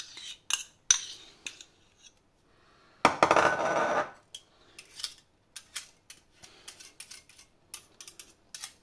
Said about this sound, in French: je vais rajouter mon mascarpone